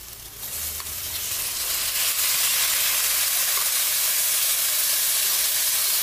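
Boiled horse gram sizzling steadily as it is sautéed in masala in a pan for a Maharashtrian usal, a loud continuous frying hiss that swells after the first second and holds alone without talk.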